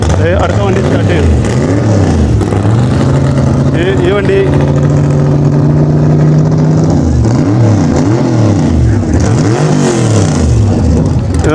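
Hot rod car engine revving loudly up close at a street machine and hot rod show in Kandos, Australia, rising and falling through repeated throttle blips with a low rumble, while people talk over it.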